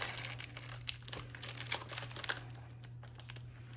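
Packing tape crinkles and presses down on the corner of a crystal shop order package, with soft, close rustling over a low steady hum.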